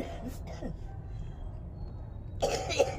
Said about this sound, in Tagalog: Yan, si nanay ay inuubo na din.